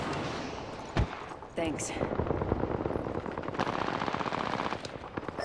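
Automatic gunfire in a Fortnite-style shooter, with rapid bursts after a sharp early shot, fairly loud and continuous beneath a voice talking.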